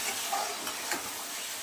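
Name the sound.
curry masala with potato and eggplant sautéing in a pan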